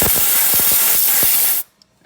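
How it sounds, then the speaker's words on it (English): Compressed air blasted around the spark plug well on a 2004 Chevy Suburban engine, a loud, close, steady hiss with faint clicks that cuts off abruptly, leaving near silence. "Just gonna spray it down a little."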